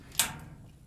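A vintage Otis freight elevator's gate at Youngstown State University's Ward Beecher Hall shuts with a single sharp, close clack that quickly fades.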